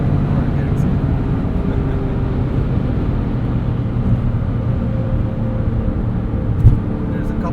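A 2009 Porsche 911 Carrera 4S engine drones steadily from inside the cabin, mixed with road and tire noise, holding a constant loud rumble throughout with no clear rev swell.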